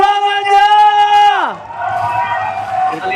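A loud, drawn-out shout slides downward in pitch, then an esports arena crowd at a Mobile Legends MPL ID match answers with a wash of cheering and noisy hubbub.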